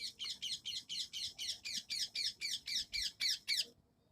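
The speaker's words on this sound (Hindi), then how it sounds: "चिल्ला रहा है तोता एक यहाँ पे।" A parrot squawks close by in a fast, even run of about a dozen harsh, loud calls that stops abruptly, over a faint low background.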